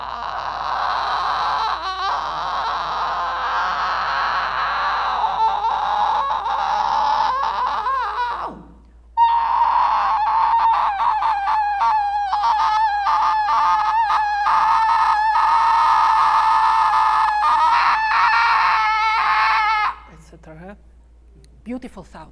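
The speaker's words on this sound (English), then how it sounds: "Multiphonics. It's just chaotic frequencies." A voice produces vocal multiphonics, harsh chaotic tones that crow, squeal and rasp in long strained phrases, loud and close, with a brief break midway and a short pause near the end.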